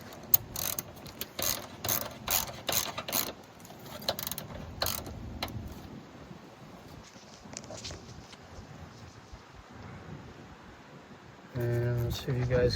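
Ratchet on an 11 mm deep socket tightening the battery bracket of a 2004 Honda CR-V: quick bursts of close clicking through the first five seconds, a quieter stretch, then a short loud burst near the end.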